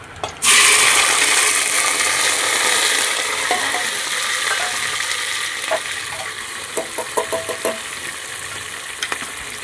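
Hot oil crackles loudly as spices, curry leaves and turmeric hit it for tempering rice, a burst of sizzling that settles into steady frying with scattered pops and clicks.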